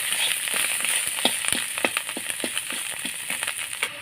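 Spice masala with chilli powder and salt, for a dried-shrimp chorchori, sizzles and crackles in a pan, with irregular sharp ticks and scrapes from stirring over a constant hot hiss.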